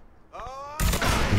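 Gunfire in the video game Mafia 3: a sharp, loud burst of shots erupts partway through and keeps booming to the end, preceded by a brief tonal in-game sound.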